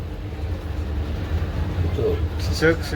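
A low, steady rumble of a moving train fills the background, with a person's voice briefly rising over it near the end.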